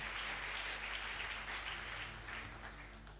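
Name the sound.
congregation applauding and cheering in church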